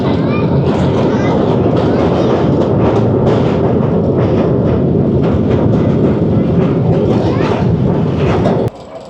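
A train running on the Mirpur Khas branch line toward Hyderabad, loud and close, with continuous rumbling and rhythmic rail clatter that stops abruptly at the end.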